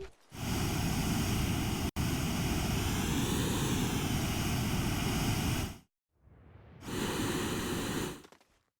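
The Hydrazine Jetpack in the video game Astroneer roars with a loud, steady rushing thrust for about six seconds, cuts off briefly, then fires again in a second shorter burst, close and alone.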